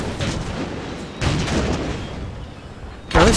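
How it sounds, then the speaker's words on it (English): Mortars and artillery fire in Empire: Total War with the Darthmod mod, a battle as Poland and Lithuania, heard as several muffled booms with a sharper, louder blast near the end. "Now this is where I have a problem now with mortars, because I find it very hard to stop them firing."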